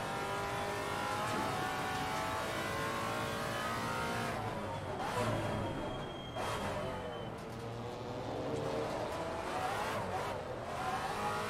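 A Maserati MC GT4 race car in the Assetto Corsa Competizione racing game revs hard with wheel spin, its engine note climbing and falling steadily throughout over a continuous drone.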